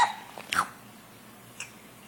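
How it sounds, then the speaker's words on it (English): A baby's sudden hiccups in a quiet room, two or three sharp short catches close by with soft breathing between and a fainter final hiccup. "hiccups"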